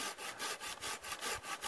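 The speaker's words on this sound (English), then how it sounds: "Making sawing wood now easier." Hand sawing through birch wood, rhythmic back-and-forth rasping strokes about every fifth of a second, close and quiet, with no voices.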